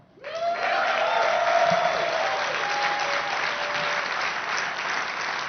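A large audience bursts into sustained applause at a Seattle Sounders FC live event, dense clapping that swells quickly and holds steady, with faint cheers mixed in.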